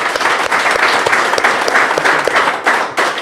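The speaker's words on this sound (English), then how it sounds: "A round of applause for everyone." A crowd claps warmly for the anglers at a bass fishing tournament weigh-in, with brisk, close applause filling a few seconds.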